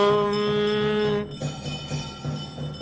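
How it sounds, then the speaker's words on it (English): A handbell rung during an incense offering at a Guru Purnima ritual rings with a bright sustained metallic tone that cuts off after about a second, followed by softer clinks and room sound. "And please ring the bell as you do so."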